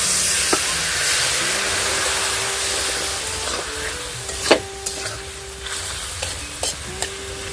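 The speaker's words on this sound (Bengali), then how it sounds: "আমি জল দিয়ে দেব" Water poured into crab masala frying in a pan raises a loud, steady sizzle and hiss, with several sharp metallic clinks of a spoon stirring against the pan near and clear.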